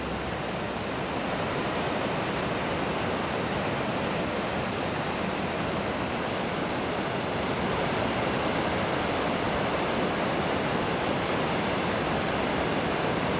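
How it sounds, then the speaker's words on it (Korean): A constant, loud roar of rushing water falling into a 20-metre-wide canyon at a three-tiered Icelandic waterfall, broad and unbroken throughout. "떨어지는 세찬 물줄기가 장관을 이룬다"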